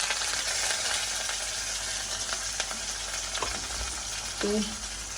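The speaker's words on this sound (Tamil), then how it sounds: "எல்லாம் போட்டு நல்லா வதக்கி விடுவோம்" Cumin, fenugreek, mustard seeds, onion, green chilli and curry leaves sautéing in hot oil give a steady close sizzle, with faint stirring scrapes and a few brief clinks toward the end.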